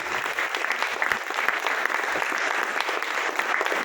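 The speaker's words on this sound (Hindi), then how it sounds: "उस गॉड के लिए जोरदार ताली हो सकती है?" A crowd at an Amway gathering in a Kalyan wedding hall claps loudly and continuously, a thick, even roar of applause with no pauses.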